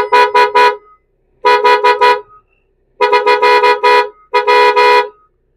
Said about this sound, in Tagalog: upgrade din tayo ng busina. Ang busina natin ay blow punk